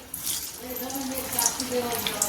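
Raw-banana koftas go into hot oil and fry with a steady, bright sizzle that holds throughout, a quiet voice faintly audible underneath.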